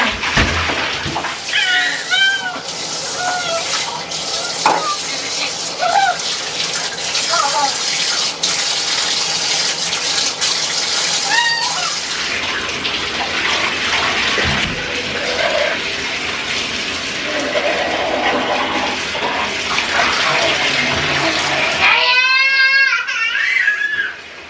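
Water gushes steadily from a tap into a bathtub during a toddler's hair wash, a continuous close splashing rush with a child's brief vocal sounds and some talk over it.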